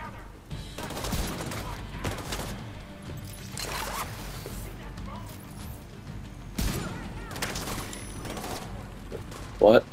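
Bursts of gunfire in the shooter game The Division 2, a string of scattered shots and short volleys through a busy firefight, with a voice talking over the action.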